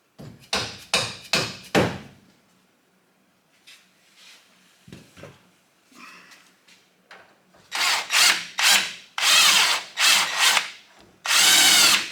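Power tool working on the bottom mount of a Menscer shock absorber, heard in several short, loud bursts at the start and again near the end, with quieter clanks and handling noises in between.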